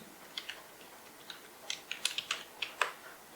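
Quiet keystrokes tap on a computer keyboard while a folder name is typed, a loose run of light clicks that speeds into a denser flurry midway, close and alone without speech.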